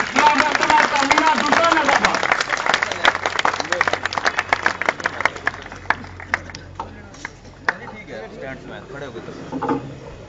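Crowd applause at an outdoor political rally welcoming someone speaker to the stage; dense clapping starts loud and full, then thins to scattered claps over a steady low hum.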